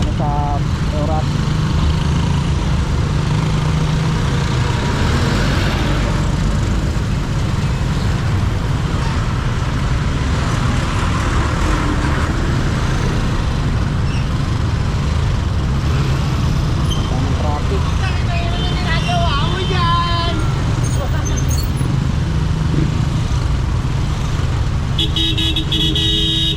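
Road traffic in heavy congestion as vehicles leave a gathering, cars and buses idling and rolling close by with a continuous engine rumble and occasional horn toots, people talking over it throughout.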